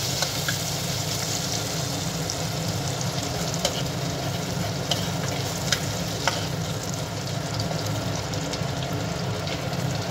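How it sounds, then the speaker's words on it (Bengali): Chopped garlic and green chillies fry in hot oil over a medium flame for a curd-based bhetki fish dish, giving a steady, close, continuous sizzle with faint stirring scrapes and no talk. "রসুন কুচি দিয়ে দেব আর কাঁচা লঙ্কাটাও দিয়ে দেব। এই সময় আমি একটু ভালো করে ভেজে নেব।"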